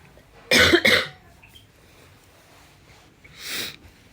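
A single harsh cough bursts out close by, followed by a quieter breathy sound a few seconds later in a hushed room.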